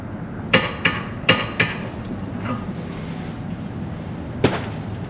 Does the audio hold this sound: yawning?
no